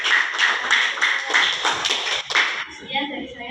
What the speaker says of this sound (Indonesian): Beri tepuk tangan untuk kelompok 7.